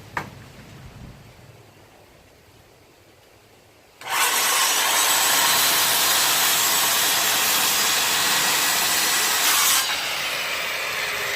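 A power saw cuts through a jalousie door insert, running at a steady loud rasping roar for about six seconds after a quiet lead-in, then dropping away.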